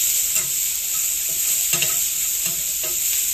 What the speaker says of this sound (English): stir that around until it's nice and caramelised